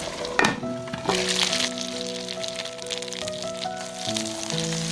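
Pork-filled dumplings pan-frying as starch water is poured in, giving sharp spitting bursts at the start before a steady sizzle continues under soft background music.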